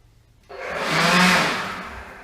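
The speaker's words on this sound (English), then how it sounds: "No, I just get my blower." A handheld blower switches on and runs, a steady loud whooshing roar that swells and slowly eases, heard close by with no talking.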